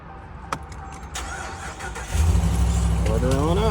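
A 2022 Ram 1500 pickup truck engine cranks and catches, then settles into a steady low rumble, heard close up after a short stretch of background noise.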